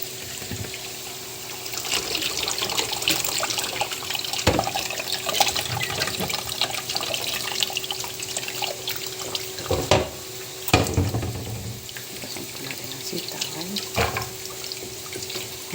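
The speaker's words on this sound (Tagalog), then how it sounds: "Ayan, hugasan na po natin yung sitaw." String beans being washed under a running kitchen tap, water streaming steadily into a sink with splashes and handling noises throughout, close and fairly loud.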